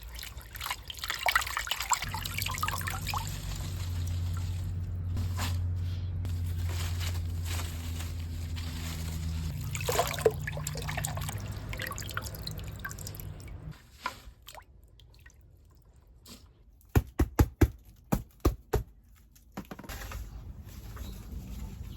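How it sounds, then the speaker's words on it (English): Plants soak in a bucket of filtered water, with steady trickling and dripping under a low hum, then quieter stretches broken by a cluster of sharp splashes and drips near the end. "I'm just going to carefully soak these in this bucket of filtered water instead."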